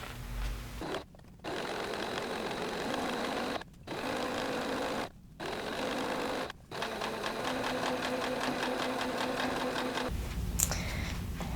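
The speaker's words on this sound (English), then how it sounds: "I'm going to sew this up" A sewing machine stitches seams on a multi-side-tie wrap skirt, a loud steady mechanical whir running close up in long bursts with brief pauses between them.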